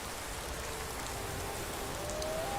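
Steady rain in the video game Skyrim, a dense continuous patter that holds even and close throughout, with a faint thin tone drifting in near the end.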